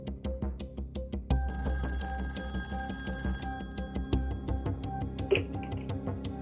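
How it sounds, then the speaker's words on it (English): Telephone at a hospital security desk rings with a repeated electric bell, loud and close, its clattering rings pulsing in quick bursts. "At 5:11 p.m., the phone at the security desk rings."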